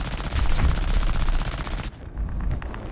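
Ki-21-I-Hei bomber guns in the War Thunder game fire in a loud, rapid, sustained burst that stops abruptly, followed by more distant, lighter gunfire in the background.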